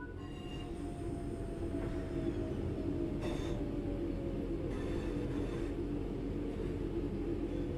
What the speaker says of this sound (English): Bring the train to a stop by applying some brake.